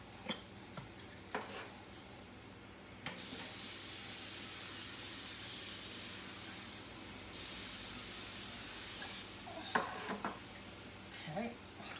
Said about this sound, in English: Let me spray my pan a little bit